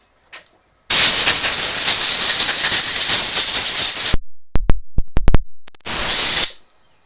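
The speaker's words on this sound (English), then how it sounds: "A little brake clean and some compressed air." Brake cleaner sprays and compressed air blow during a 2001 Ford F250 power steering pump rebuild: a loud continuous hiss for about three seconds, a string of short sharp bursts, then another steady blast, all close and with no talk.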